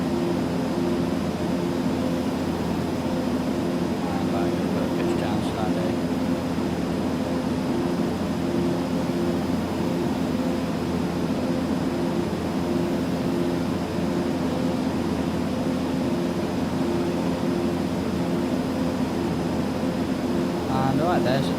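Steady, loud drone of an aircraft propeller engine held near full throttle in the X-Plane 12 flight simulator, a continuous even hum with no breaks.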